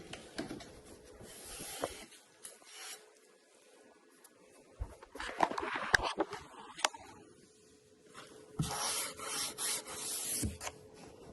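Dry tile cutting with a Rubi TC-125 G2 tile cutter, no water: harsh grinding and scraping in uneven bursts with pauses between passes, close and fairly loud.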